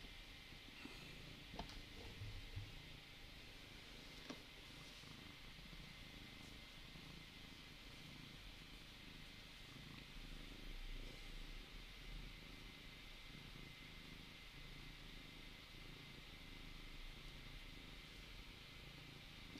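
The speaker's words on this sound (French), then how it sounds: "Moi, j'ai un chat sur moi qui réclame ses câlins." A cat purrs continuously at close range, a low steady rumble that runs the whole time with no talking over it.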